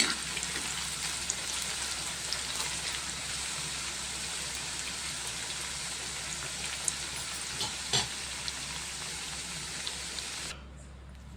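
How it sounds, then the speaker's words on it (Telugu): Bitter gourd deep frying in oil, a dense steady crackling sizzle with occasional pops and stirring knocks, cutting off near the end. "కాకరకాయలు డీప్ ఫ్రై చేసుకోవడం అయిపోయింది."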